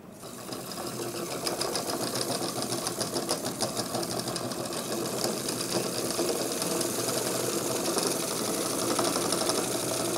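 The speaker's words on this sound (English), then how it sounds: "So let's see if I can make my motor spin now." A homemade electric motor with flexible brass brushes on its commutator spins up, making a steady buzzing whir with fine rapid ticking that grows slightly louder over ten seconds.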